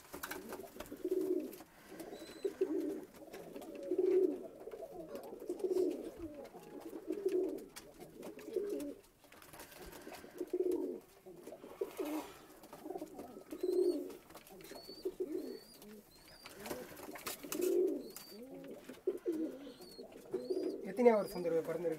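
Tournament racing pigeons at a loft in Vellore coo steadily in repeated low, throbbing phrases, close and clear, with brief gaps between bouts.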